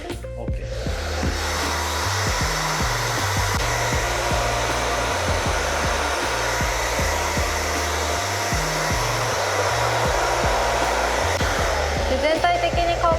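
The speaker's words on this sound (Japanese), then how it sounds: "全体に乾かしていく" A hair dryer blows continuously at a barbershop while hair is dried, a loud steady whoosh with shifting pitch as the airflow moves, a brief handling rustle near the end.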